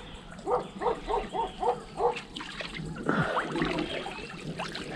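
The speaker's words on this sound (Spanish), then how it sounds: "se escucha el ruido del perro del otro lado" A dog barks about six times in a quick series from across a river at the Argentina–Brazil border, distant and muffled, with water trickling softly in the background.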